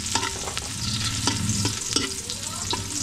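Ginger sizzles and fries steadily in hot oil while being stirred, with scraping utensil strokes against the pan at close range, a continuous crackling hiss with no talking.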